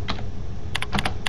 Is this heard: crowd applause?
no